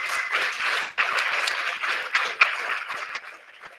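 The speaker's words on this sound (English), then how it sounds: "let's give everybody a round of applause as again" Audience applause rings out at a stock exchange listing ceremony for AltVest Capital on the JSE. The clapping is steady and dense throughout, with a few sharper claps standing out near the middle.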